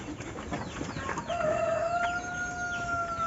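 A white Philippine labuyo junglefowl rooster, kept in a cage near rice terraces, crows once in a long, drawn-out call that starts partway through and carries to the end over a noisy outdoor background.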